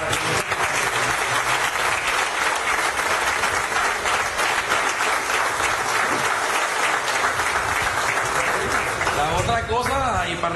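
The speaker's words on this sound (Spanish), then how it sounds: "unas felicitaciones y un aplauso para" Sustained, dense applause from a crowd in a Venezuelan television studio, loud and even for about ten seconds, with a voice emerging near the end.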